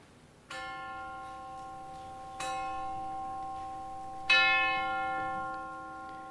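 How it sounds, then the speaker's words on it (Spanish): Three ringing strikes of a church clock bell marking three o'clock in Seville, spaced about two seconds apart, each tone lingering and slowly decaying into the next. "Acaban de dar las 3 en el reloj, la campana."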